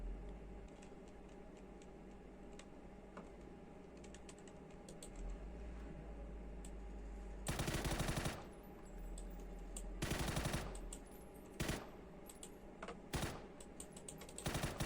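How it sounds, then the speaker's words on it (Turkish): Bursts of automatic rifle fire in the battle-royale game PUBG, several loud sharp volleys cutting in over quiet background and steady keyboard clatter, with no talking. "Ya ben sıkıyorum da adama değmiyor ki"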